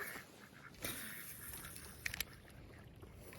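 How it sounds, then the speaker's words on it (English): Ducks quack in short bursts near a bass fishing spot on a freezing day, a couple of sharper calls standing out over a light outdoor background with no talking. "these ducks just don't come in the fishing spot"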